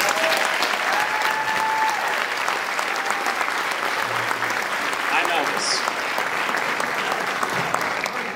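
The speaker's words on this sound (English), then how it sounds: "let's just give all these wonderful folks a round of applause" A large audience at a Belton High School event gives a loud, sustained round of applause. The dense clapping stays steady for several seconds, with a few faint voices mixed in.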